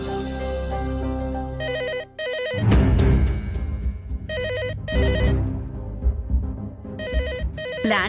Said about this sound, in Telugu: Land phone ring అవుతుందేంటి?